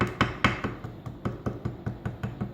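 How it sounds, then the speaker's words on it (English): A ball peen hammer taps gently on metal, about a dozen light, evenly spaced strikes in a steady rhythm, close and fairly quiet with no voices. "take a ball peen hammer, and where there's a hole,"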